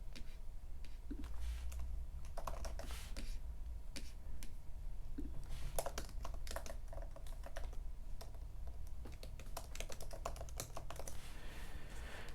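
Computer keyboard typing as an item description is entered, a close, steady run of quick clicking keystrokes with brief pauses and a few louder taps.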